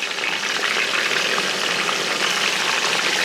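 Pandan-wrapped chicken pieces deep-fry in hot oil, giving a steady, dense sizzle and crackle that stays close and even throughout, with no talking.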